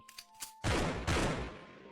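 Gunfire during a wild boar hunt in a forest, with a loud sustained burst of shots after a quieter stretch of faint sounds, a second blast following about half a second later and ringing out as it fades.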